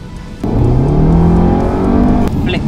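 A 2-litre turbo petrol engine in an Audi TTS suddenly roars up, revving and climbing in pitch as it accelerates hard, loud and close, then eases off at the end.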